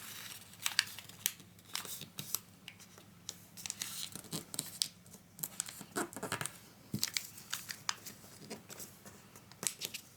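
Origami paper being folded and creased, with close, crisp crinkles, rustles and sharp paper snaps repeating irregularly throughout, no voices.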